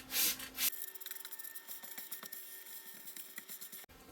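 Soft, fast rubbing strokes of hand sanding on stained wood walls inside a school bus, close and fairly quiet, following a brief louder hiss of a water mist sprayer at the start.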